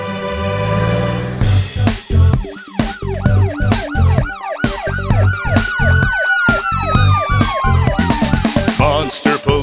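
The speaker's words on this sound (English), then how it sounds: "I'm a brave monster police car!" A cartoon monster police car's siren wails in repeated rising and falling sweeps, loud and close, over a rhythmic pulsing backing beat and jingle-like tones.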